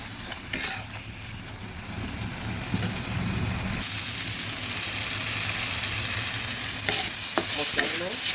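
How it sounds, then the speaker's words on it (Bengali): Spices fry in hot oil in a pan while mixed dal is being cooked, making a loud, continuous sizzle with stirring scrapes and a low background hum, with no voices. "মশলাগুলো ভাজা হয়ে গেছে"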